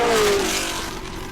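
A 1967 Ford GT40 with a 427 V8 roars at high revs, a loud, steady engine note with the pitch easing slightly downward, no voices.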